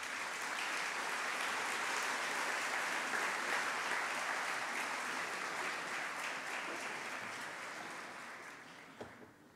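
Sustained audience applause at a university anniversary ceremony in Temuco, a dense, steady wash of many hands clapping for several seconds, fading slightly toward the end.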